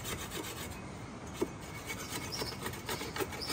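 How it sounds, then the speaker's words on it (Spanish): Steady rasping of sandpaper rubbed back and forth over a wooden table, close and fairly quiet, with a few small knocks. "Ahora me falta pasar un poquito de lija nomás"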